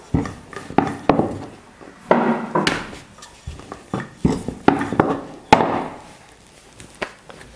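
A rolling pin presses thick biscuit dough for Diwali biscuits, giving irregular knocks and thumps. Short rolling scrapes repeat in uneven bursts over several seconds, close and moderately loud.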